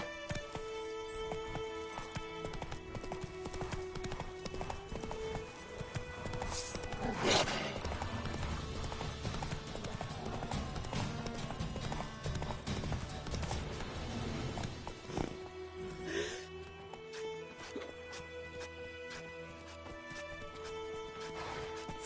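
Horse hooves trotting in The Witcher 3, a steady clip-clop rhythm running throughout over a dense bed of game music and ambience, with occasional snorts or whinnies and no talk.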